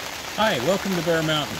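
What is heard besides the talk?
rain hitting a hoop house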